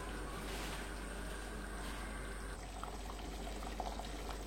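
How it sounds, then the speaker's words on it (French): Water poured into a cooking pot on the stove after about twenty minutes of simmering, a continuous close splashing wash over a low hum, easing off partway with a few faint clinks. "Je vais rajouter un peu d'eau."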